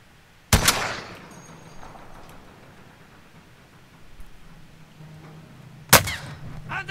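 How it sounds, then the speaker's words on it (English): Gunfire in Call of Duty Warzone: two sharp, loud shots several seconds apart, each with a brief ringing tail, over a quiet low ambient bed. "Careful, they're firing at you."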